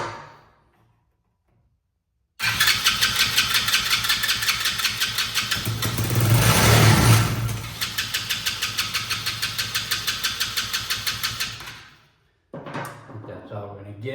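A small Chinese ATV engine cranks, fires and runs with a rough, pulsing idle for about ten seconds, then cuts out and briefly sputters again; voices are heard nearby.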